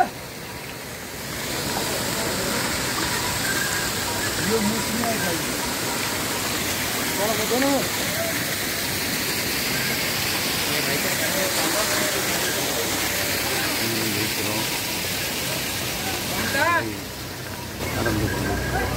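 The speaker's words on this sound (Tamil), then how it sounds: "அருவி" A Himalayan waterfall beside the Kedarnath pilgrimage trail gives a steady, broad rushing roar that fills the whole stretch, with a voice talking intermittently over the constant water noise.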